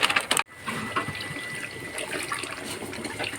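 Water runs from a kitchen tap, a close splashing gush that briefly cuts out near the start and then flows on steadily, with no voices.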